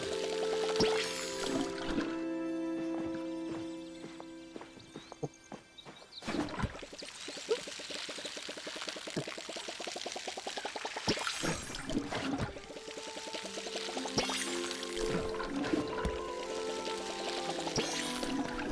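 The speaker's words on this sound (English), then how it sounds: "Water my garden." Watering crops in the video game Palia produces several gentle pouring and splashing bursts, each followed by a steady rising trickle of plinking notes, over soft game music tones.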